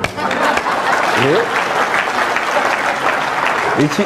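A crowd at a comedy show claps steadily and loudly throughout, with short bits of voice cutting through the applause.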